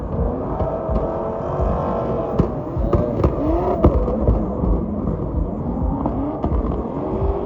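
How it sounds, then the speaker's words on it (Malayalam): A Ford Mustang and a BMW M3 run at a gymkhana event, giving a rumbling wash of engine revs with sweeping pitch changes and sharp popping bangs, fairly close and loud over a crowded outdoor background. "മസ്റ്റാങ് കേട്ടോ അപ്പുറത്ത്. ഇപ്പുറത്ത് BM M3 ഒക്കെ തോന്നുന്നു കേട്ടോ."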